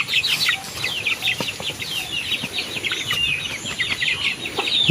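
Free-range gamefowl chickens outdoors in rainy weather, with repeated close clucks and chirpy calls in irregular bursts over a light outdoor background.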